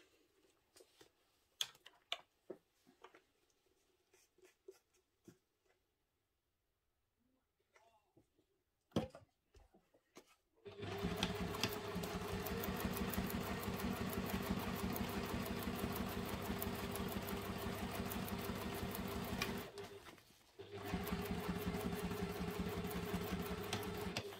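A sewing machine stitches the top edges of a fabric wallet, starting after scattered quiet handling sounds and then running in a loud, steady drone with one brief pause near the end.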